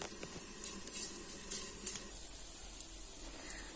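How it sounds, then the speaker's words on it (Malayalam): Herbal medicine dropped into a hot wok (cheenachatti) sizzles and crackles steadily, with faint scattered popping and a low background hiss throughout. "അതിലത്തേക്ക് ഈ മരുന്ന് ഞാൻ ഇടുകയാണ്, ചൂടാവാൻ വേണ്ടിയിട്ട്"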